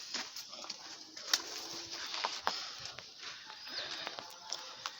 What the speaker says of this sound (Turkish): Havada uçan kuşlar şu arkadan uçuyorlar.